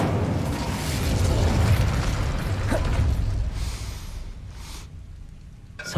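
An Incendio fire spell cast in the video game Hogwarts Legacy, a low whooshing burst of flame rumbling and fading over several seconds, followed by a couple of faint pops and a sharp click at the end.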